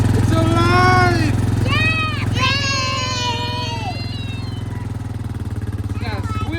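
A cheap four-wheeler ATV engine idles with a steady low chugging throb close by, while a person talks over it throughout.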